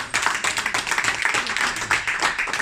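An audience at an independence celebration held by a Swedish parents' association claps for itself, a lively patter of many hands with sharp individual claps standing out.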